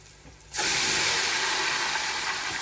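After a brief quiet moment, a loud sudden sizzle erupts as dal hits hot oil with browned garlic, then keeps hissing and crackling steadily.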